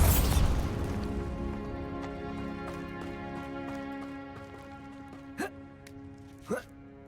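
Spell explosions from Bombarda in the Hogwarts Legacy video game, a loud blast at the start fading out, then two short bright bursts later over a steady humming game ambience with musical tones.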